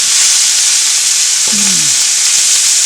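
Scallops sear in a hot frying pan with a steady, even sizzle that runs unbroken throughout, joined briefly near the middle by a small squeak. No one speaks.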